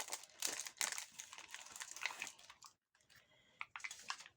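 A plastic package from a Temu haul crinkles and rustles as it is torn open close up, with bursts of crumpling, a brief pause, then more crackling.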